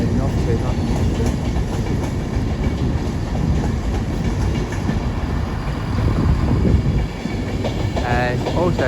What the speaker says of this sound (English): We now turn to 39154 now heading off to London Euston.